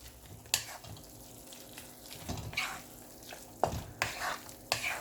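Paneer and green capsicum scramble with chopped coriander is stirred in a pan, irregular scraping strokes and occasional clinks over a light sizzle, fairly quiet and close with no talk.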